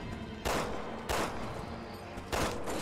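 Three loud, broad gunshot blasts in Resident Evil 6 boom out at uneven intervals over a steady, dense game background, with almost no talking.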